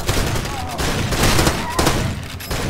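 Bursts of gunfire erupt from behind in the Far Cry 2 video game, dense rattling shots filling the mix at a steady loud level with a few louder cracks, no voices over them.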